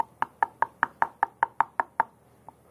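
Ten sharp, evenly spaced knocks rap on a door at close range in a quick steady rhythm, followed after a short pause by one lighter final knock, with no talking.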